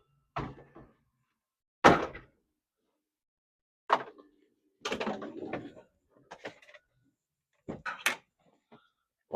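The door of a rotted 1979 Plymouth Volare station wagon clunks and rattles in several separate, fairly close knocks and thumps spread over about nine seconds, with quiet gaps between them and no talking.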